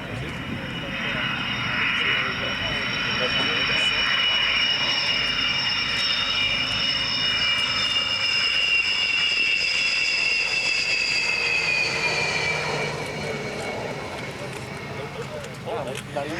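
A Soviet MiG-29 Fulcrum jet makes a tight low turn at an international airshow, its loud engine roar holding steady for most of the pass before easing off, with a commentator talking over it.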